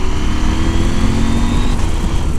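A 2022 Husqvarna Norden 901 motorcycle engine drones loud and close under hard riding, a continuous steady roar with no pause.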